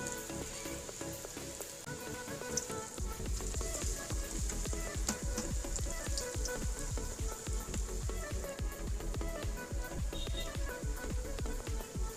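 Cauliflower pieces for gobi 65 deep frying in hot oil, with a dense, steady crackling sizzle that grows fuller after a few seconds and stays close and continuous, with no talk.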